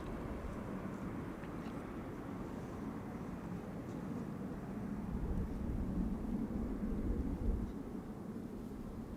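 An Atlas Air Boeing 747 cargo jet in polar livery with DHL branding roars steadily at an airport, a broad continuous engine rumble that swells slightly toward the middle and stays loud throughout with no talk.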